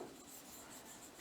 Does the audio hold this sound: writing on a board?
yes